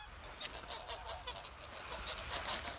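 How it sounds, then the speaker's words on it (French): Thousands of geese on a down-plucking farm honk in a dense, continuous chorus of overlapping calls from a large open field, moderately distant and steady throughout. "Au bout du champ, des milliers d'oies mutilées."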